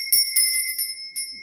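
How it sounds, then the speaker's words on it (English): A small hand bell is rung to cleanse the space. It gives a quick series of bright, metallic strikes, close and clear, each ringing out briefly. A final strike comes after a short pause, with no talking. "I'm going to be ringing this bell. This is just to cleanse the space around us."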